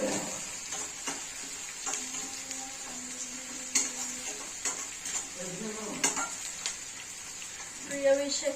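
Onions fry in a pan as a soft, steady sizzle, broken by repeated scrapes and clinks of a spoon stirring against the metal. The sound is close and moderate in volume, and no one speaks.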